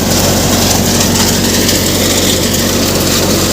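A threshing machine engine threshing pigeon peas drones loudly and continuously with a low rumble and constant mechanical hum, close by and unbroken throughout.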